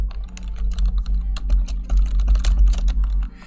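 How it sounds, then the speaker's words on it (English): Rapid, forceful typing on a computer keyboard with the microphone right beside it, a dense run of sharp, close, loud key clacks with a low hum underneath and no talk. "my mic is like right next to the keyboard, and I do a lot of aggressive... I'm a very aggressive typer"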